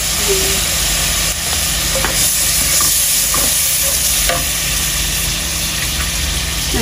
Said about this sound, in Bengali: ভাজি গিয়েছে আমাদের পেঁয়াজ ভাজি গেছে পেঁয়াজ এবং চিংড়ি মাছ